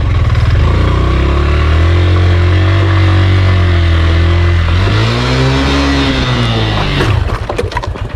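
A motorcycle engine labouring on a steep, rough and dangerous road, droning loudly and close with rising and falling revs, then a sharp burst of clattering near the end.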